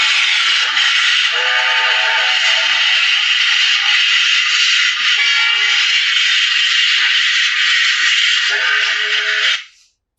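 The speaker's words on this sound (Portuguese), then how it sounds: "É um som de um trem" A train sounds a long, loud, sustained horn blast lasting nearly ten seconds, holding one steady chord before cutting off abruptly, with no voices.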